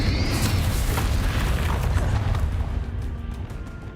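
A Confringo spell explosion in Hogwarts Legacy booms loudly with a deep rumbling blast that slowly fades, with crackling debris in the tail.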